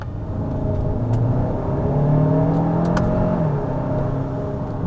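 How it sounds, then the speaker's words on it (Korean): A turbocharged engine of a new Hyundai Santa Fe SUV revs up, heard from inside the quiet cabin, a droning hum rising in pitch, then easing off, steady and fairly loud. "이 엔진 쪽의 사운드가 다 넘어옵니다"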